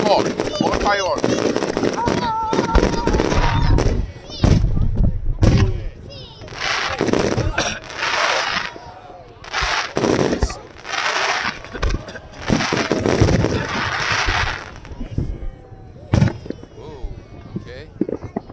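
Booming and crackling fireworks at Vestlia Resort burst in rapid clusters and longer volleys, loud and sustained, with people talking over the display.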